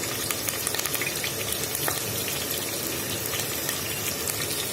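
Curry leaves sizzle and crackle in hot oil with cumin seeds for a South Indian fish curry, a dense, steady frying hiss with scattered sharp pops, close and fairly loud, no voices.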